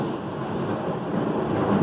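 A small thunderstorm rumbles steadily through the full stretch, a broad continuous roar of thunder with wind and rain noise that swells slightly toward the end, heard alone with no talking.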